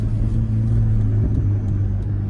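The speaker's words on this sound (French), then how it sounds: "Ah ça vous fait plaisir le bruit de la Ferrari à ça." A Ferrari engine's low, steady rumble heard up close, a continuous deep drone with a slight swell partway through and no speech.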